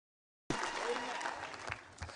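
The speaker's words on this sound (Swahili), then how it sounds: "Pigia Bwana makofi mazuri katika jina" A crowd at an outdoor political campaign rally in Kilgoris claps steadily for the Lord, a dense, continuous patter of applause that starts abruptly and holds at moderate distance for about two seconds.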